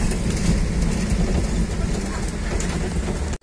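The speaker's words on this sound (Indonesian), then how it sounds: "Kereta, kereta." Train rumbling past at a railway crossing, a dense, close roar with faint rhythmic clatter that cuts off sharply at the end.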